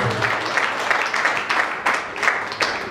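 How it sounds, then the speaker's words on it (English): A congregation at a Sunday church service claps for Jesus, a full, continuous burst of hand clapping with some sharper accents, close and lively. "Clap for Jesus."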